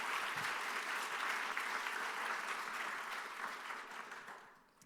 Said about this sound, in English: So give yourselves a big round of applause as